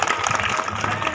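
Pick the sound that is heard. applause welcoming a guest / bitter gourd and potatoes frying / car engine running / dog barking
applause welcoming a guest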